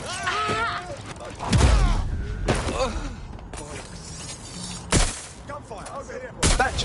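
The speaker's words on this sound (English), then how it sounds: "Gunfire, over here." Gunfire in the video game Watch Dogs Legion: several sharp shots and impacts scattered through the stretch, with a loud burst near the start and more cracks later, over game music and background effects.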